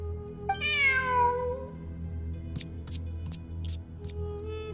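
A cat in Genshin Impact video game gives a clear, drawn-out meow near the start, followed by a few faint clicks and soft background game ambience.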